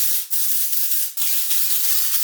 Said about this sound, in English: I am just gonna go in with a little bit of texture spray on both sides